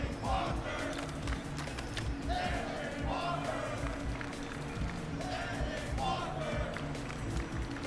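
A crowd at a fighting game tournament chants and shouts together in a continuous loud roar, with rising voiced calls repeating over the dense noise and a commentator talking through it.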